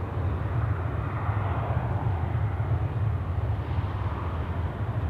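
A Qantas Boeing 737 on its takeoff roll from Runway 34 Left at Sydney Airport, bound for Adelaide, gives a steady, loud low-frequency engine roar that stays constant throughout, with no voices.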